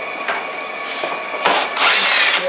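A power tool whirs as it removes a bolt, a steady high mechanical whine that surges louder in the second half, close by with no talking.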